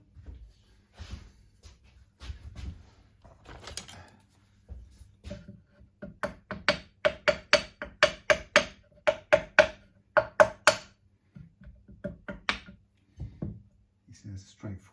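Sharp wooden taps from a hammer knocking the nut off a vintage Gibson SG guitar, a dense run of close, evenly spaced strikes in the middle, with scattered softer knocks and handling before and after.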